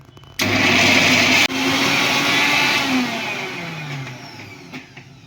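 A mixer jar grinds green garlic, potato and other ingredients into a paste. The loud whirring motor starts abruptly, pauses briefly, then runs again, its pitch wavering as the load shifts before it winds down.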